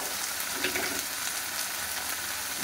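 Eggplant and okra frying with a little salt in a pan, giving a steady, close, continuous sizzle with faint bubbling throughout and no talking.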